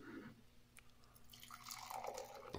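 Monster the Beast Unleashed White Haze beer pours from a freshly opened can into a glass, a quiet, brief trickle and splash with a few drips, no voices.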